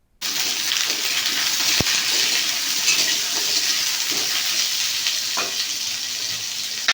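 Potatoes and pointed gourd fry in hot oil in a village-style kitchen, a close, continuous crackling sizzle with a couple of sharp clinks from stirring and no talking.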